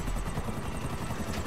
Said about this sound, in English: I will shoot this goddamn helicopter down.